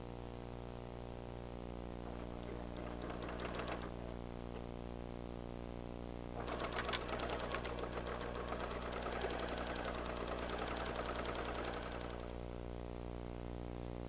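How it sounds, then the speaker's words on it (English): Pfaff Creative 7570 computerized sewing machine stitching a test pattern, heard as two bursts of rapid mechanical needle clatter, one short and one longer, over a steady background hum. "always sew a test pattern first, as we've done here, to make certain that your design is exactly what you want"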